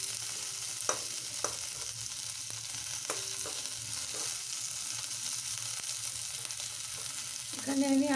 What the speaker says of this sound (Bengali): এখানে আমি আদা আর কাঁচা লঙ্কাটা ভেজে নিয়েছি।